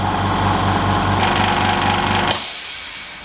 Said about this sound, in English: The compressor combined with a park tool inflator makes inflating tyres actually enjoyable.